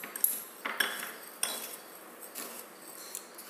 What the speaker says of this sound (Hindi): फर्स्ट स्टेज में हम क्या करेंगे, कॉफ़ी पाउडर और शुगर को अच्छे से मिक्स कर लेंगे।